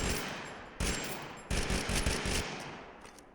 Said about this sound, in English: The M16, ladies and gentlemen. It's a good gun. I would recommend it.